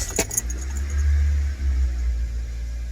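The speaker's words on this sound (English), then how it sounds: "Let's start the car up real quick." A 2006 Toyota Corolla Type S is started after clock spring replacement: a brief crank and key jingle, then a loud, steady low idle rumble close by with no talking.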